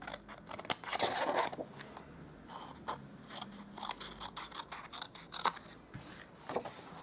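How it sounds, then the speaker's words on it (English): Scissors snipping up score lines on a paper baker's box make crisp, close crunching cuts in irregular bursts, with light paper rustling between snips. "then we're going to cut up those score lines on this side as well"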